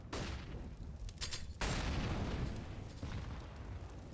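HE grenade blasts in CS:GO during a DreamHack Masters Malmö match on Mirage, two heavy booming explosions with a broad noisy rumble that lingers between them, loud and close, with no talking.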